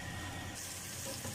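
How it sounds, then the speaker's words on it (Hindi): Boiled red kidney beans (lobia) and their cooking water poured into a pan of sizzling masala, a soft continuous splash and hiss of liquid at close range, fairly quiet throughout. "अभी हम अपना लोबिया पानी के समेत जो है वो मसाले में डाल देंगे"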